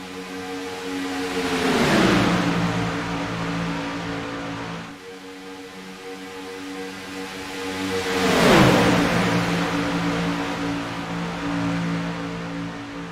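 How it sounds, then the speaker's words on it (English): Race cars roaring around an oval track at full speed, about 200 mph, two loud passes swelling and falling away with clear Doppler drops over a steady engine drone. "let you hear these cars go around this track at full song at 200 miles an hour."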